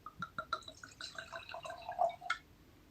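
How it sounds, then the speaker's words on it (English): Red wine, an 87-10-3 Merlot, Cabernet Sauvignon and Cabernet Franc blend from the Listrac-Médoc, splashes and trickles into a glass in a quiet close pour lasting a few seconds, with small drips and gurgles and no talking. "this is an 87-10-3 blend of Merlot, Cabernet Sauvignon, and Cabernet Franc. Okay? Let's pour this one."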